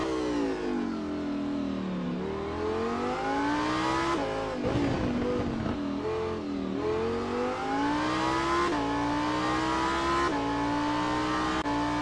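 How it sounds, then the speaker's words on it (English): Onboard engine roar from the cockpit of the number 204 Lamborghini STC race car at Detroit, revving steadily with rising and falling pitch through gear changes, loud and continuous with no talking. "Here's the view from Brian Hall's cockpit in the number 204 Lamborghini STC."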